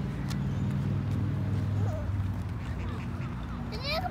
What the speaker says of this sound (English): Look, there's a duckling.